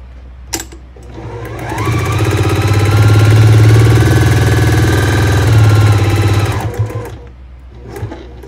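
A loud sewing machine stitches quilt pieces together, winding up from a start, holding a fast, steady, close run for several seconds, then slowing to a stop, with no talk over it.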